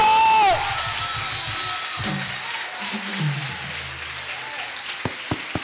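A church congregation bursts into applause and cheering during a sermon, with a dense wash of clapping and scattered shouts and whoops. A few sharp claps stand out at the close.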